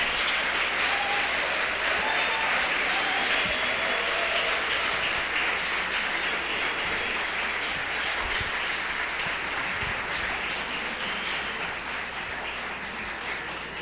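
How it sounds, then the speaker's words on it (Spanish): Steady, dense applause from a large audience at a university lecture, sustained and fairly loud throughout, tapering slightly toward the end. "Damos un fuerte aplauso a nuestro conferencista."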